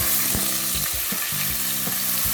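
Washed rice fries in a pan for khichdi, crackling in a dense, loud sizzle as a spoon stirs and scrapes it in quick, rhythmic strokes about every third of a second, close and without talk.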